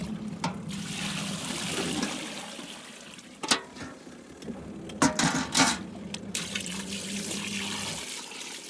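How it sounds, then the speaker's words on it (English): Hot water pouring steadily into a spin-only pulsator washing machine in an off-grid home on a Nordic island, a continuous close splashing rush with a few brief louder bumps partway through. "It only spins, so I just add hot water and"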